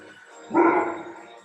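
One short, close dog bark rises sharply and trails off, heard alone against a quiet indoor background.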